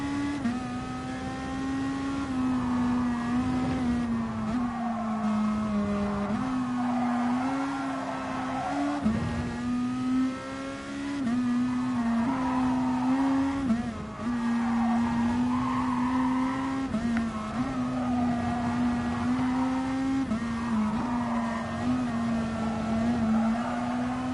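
Race cars lapping a track in the Gran Turismo Sport racing game during a 10-lap online daily race, a steady loud engine drone rising and falling with gear shifts, continuous throughout with faint tire noise.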